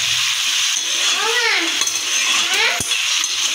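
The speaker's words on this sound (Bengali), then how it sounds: "কষাতে হবে, কষানোর উপরই ফ্লেমটা একটু লো করে খালি কষাতে হবে অন্তত 10 মিনিট ধরে" Spices sautéed (kosha) in a pan over low flame, a steady close sizzle with scraping stir strokes and light metallic clinks of a utensil against the pan.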